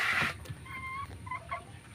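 Several short clucking calls from chickens, starting with a brief louder burst, then clipped tonal notes over a steady low background rumble.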